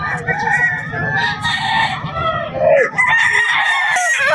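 A rooster crows loudly and close by at Bocaue Pet Market, with other fowl clucking and the busy noise of a crowded market around it.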